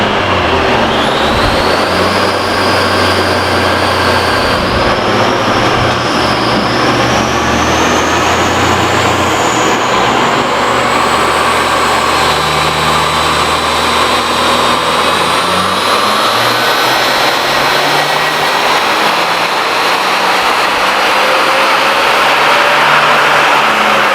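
A Kingatow tx3 turbo car engine revs hard and continuously on a dyno with the intercooler cooled down, a loud, sustained roar whose pitch climbs steadily through the run with a rising whine above it.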